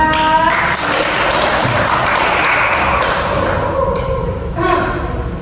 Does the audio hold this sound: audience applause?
yes